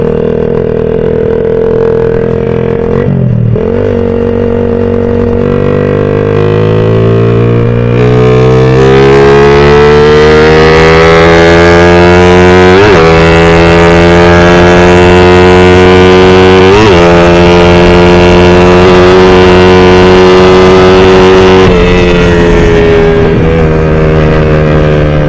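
A Suzuki Raider 150 motorcycle fitted with a 14/42 sprocket revs hard, its engine whine climbing in pitch through the gears. The sound is loud and close, with brief dips between shifts and no talk.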